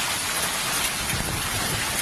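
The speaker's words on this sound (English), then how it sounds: "That's hail on the ground." Hail falls outside during a storm, a dense, steady hiss of pellets striking the ground close by, loud and continuous with no voices.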